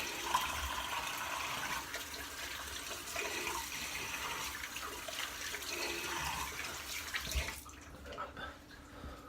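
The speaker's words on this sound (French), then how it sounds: "Donc un petit rinçage très rapide." Water runs steadily from a tap while a straight razor is rinsed during a shave, a close, continuous splashing hiss that drops off near the end.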